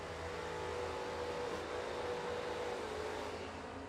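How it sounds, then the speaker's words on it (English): Hemi-powered drag race car at an IHRA World Finals event, a dense sustained engine roar heard from a distance as it accelerates down the strip, steady and unbroken for several seconds. "Here's that Hemi we've been talking about."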